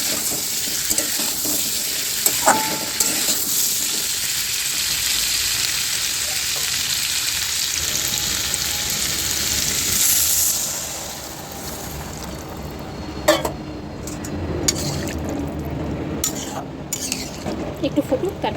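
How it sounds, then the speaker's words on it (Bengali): Curry bubbling and sizzling in a wok, a steady frying hiss with occasional clinks of a utensil against the pan, close and continuous throughout. "একটু ফুটুক তারপরে ঢাকা দেবো।"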